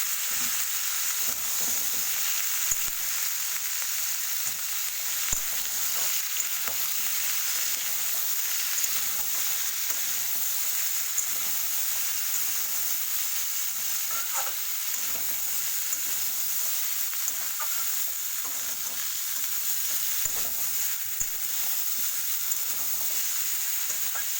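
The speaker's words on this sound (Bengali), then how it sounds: "বেশ কিছুটা ভাজা হয়ে গেলে আমার যে ডাটা কেটে রাখা ছিল সেটাকে আমি অ্যাড করলাম" Chopped vegetable stalks fry in a pan, giving a continuous bright sizzle that runs the whole length, steady and close, with faint stirring scrapes now and then and no talking.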